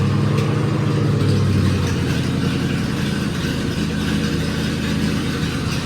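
A 1978 Ford F150 engine with a newly fitted exhaust runs loud and close, a steady rumbling idle with a slight rhythmic lope throughout.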